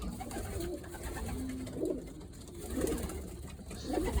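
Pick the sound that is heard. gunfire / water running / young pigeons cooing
young pigeons cooing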